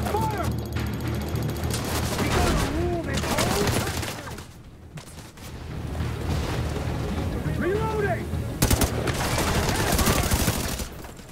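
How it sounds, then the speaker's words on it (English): Weapons fire in the shooter video game The Division 2, with dense bursts of rifle shots and booming impacts rolling on almost without pause, loud and close, easing briefly in the middle before the barrage resumes. "they re-recorded the sound for pretty much every weapon"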